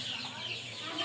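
Sonali hybrid chickens on a poultry farm give soft, continuous clucking under a steady farmyard hiss, fairly close and moderately loud with no clear break in the calls.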